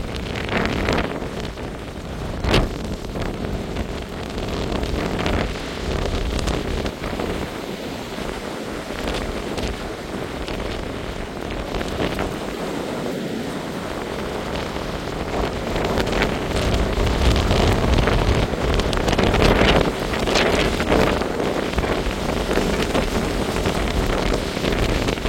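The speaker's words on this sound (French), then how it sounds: "Rafale." Strong gusts from Storm Floriane roar across an exposed microphone in a continuous, loud rush that swells toward the end, with no one speaking.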